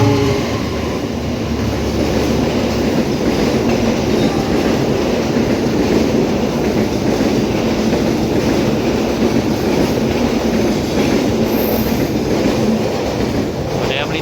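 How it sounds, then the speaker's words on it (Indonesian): The Lodaya passenger train rumbles steadily through Lempuyangan station toward Bandung, a loud continuous roar of wheels and cars passing close by for the whole stretch. "Lodaya melintas Lempuyangan arah Bandung"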